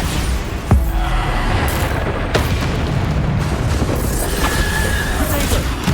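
A Bombarda spell explodes during Hogwarts Legacy combat, with several sharp booming blasts over a constant, loud bed of battle noise, each impact standing out briefly against the rumble.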